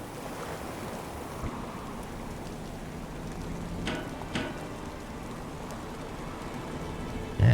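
Steady rain with rolling sea wash in the Stormworks video game, a soft continuous hiss at low level with a couple of faint knocks and no talking over it.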